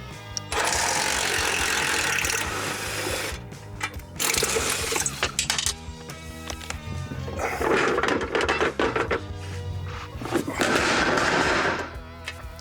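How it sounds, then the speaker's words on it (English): Rapid bursts of an impact wrench spinning 18mm bumper frame-rail nuts off a 2007-2018 Jeep Wrangler JK, loud and close, in several long rattling runs with short pauses between. "They take an 18mm socket, spin them off, the bumper comes right out."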